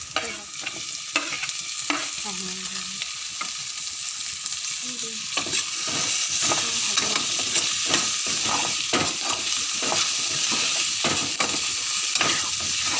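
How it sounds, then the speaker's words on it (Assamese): Elephant apple (ou tenga) pieces fry in hot oil in a pan with a loud, continuous sizzle. Frequent scraping stir strokes run through it, heard close up and alone. "ঔটেঙাখিনি এটা ধুনীয়া কালাৰ নহালৈকে ভাজি থাকিব, পূৰা মচমচীয়া হৈ যোৱালৈকে ভাজিব।"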